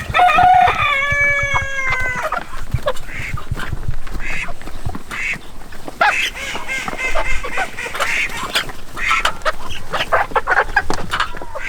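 Chickens and ducks in a backyard flock: a rooster crows loudly at the start, then hens cluck and ducks quack in a busy, overlapping chorus that continues throughout.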